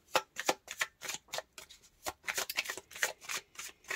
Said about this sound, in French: Je vais d'abord tirer 2 cartes de l'oracle de Béline